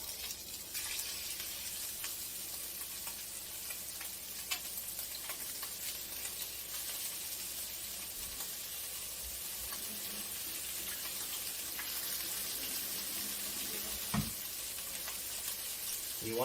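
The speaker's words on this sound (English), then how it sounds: "It's probably going to sizzle right away." Chicken pieces seasoned with coarse salt and pepper sizzle steadily in a frying pan over medium-high heat for a stir-fry, a continuous bright crackling hiss with occasional clinks and soft knocks, close and alone.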